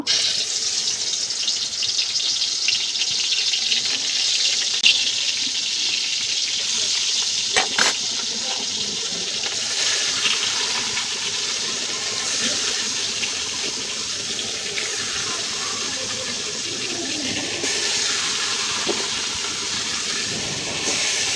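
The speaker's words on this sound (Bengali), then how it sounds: "এখন মাছগুলো দিয়ে দিব।" Fish fries in oil in a pot over a village cooking fire, giving a long, even, hissing sizzle with occasional crackles and faint clinks.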